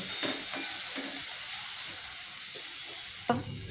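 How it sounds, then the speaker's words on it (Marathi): Onion and mixed vegetables sauté in a pan for rava appe batter, giving a steady, close sizzle broken by regular scraping stirs, with one sharper knock near the end. "त्या अशा छान अशा परतून घ्यायच्या भाज्या. 1-2 मिनटासाठी परतायच्या"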